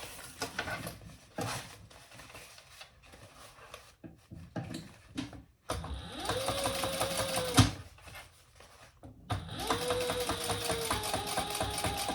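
A sewing machine runs top stitching along fabric in a few rapid rhythmic bursts, with fabric handling and light clatter between runs, close by and fairly quiet.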